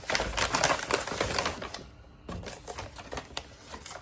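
A mail package is torn open by hand in a run of rapid, crackly ripping bursts close by, then a brief pause before more tearing, with no talking.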